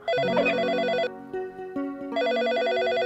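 A telephone rings loudly in two electronic trilling bursts separated by a short gap with a few soft knocks and clicks.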